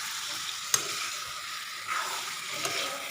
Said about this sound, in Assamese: তাৰপিছত নিমখ হালধি দি পেলাই অলপ ভালকৈ ভাজি ল'ব লাগিব।